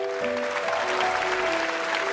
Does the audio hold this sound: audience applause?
yes